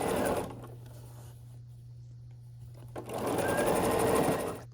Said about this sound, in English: we'll sew down this edge, and then we'll repeat that